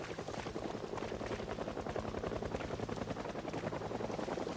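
Helicopter in the Project Zomboid video game, a steady rapid rotor chop with dense mechanical roar, loud and continuous without any talking.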